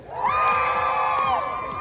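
Crowd cheering at a Thanksgiving costume contest, a loud swelling whoop and shout with children's voices, rising sharply then tapering off toward the end.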